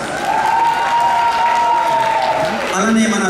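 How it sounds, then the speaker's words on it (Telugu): A crowd at a community association event claps for a guest in a brief, dense burst, while a speaker's voice carries over the applause through most of it. "Give him a big round of applause."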